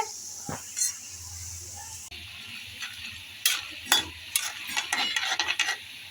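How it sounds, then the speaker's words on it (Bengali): Nimki snacks fry in hot oil in a wok, with a steady sizzle and hiss under repeated clinking and scraping strokes of a spoon stirring them, close and fairly loud. "নিমকিগুলো কিন্তু লাল লাল করে ভেজে নিতে হবে।"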